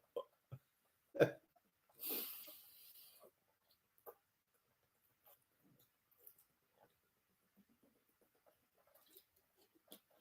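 A person's hiccups come as sharp, isolated bursts, a few loud ones early and then fainter scattered catches and small noises across a mostly quiet stretch.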